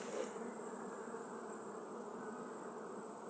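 Carniolan honey bees buzz steadily at an open hive during honey harvest, a dense continuous drone close by with no talking.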